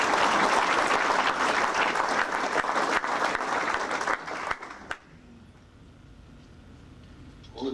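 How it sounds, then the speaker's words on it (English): A Rotary Club meeting audience applauds in a dense, loud burst of clapping that tapers off and stops, leaving quiet room tone afterward. "Let's give them a round of applause."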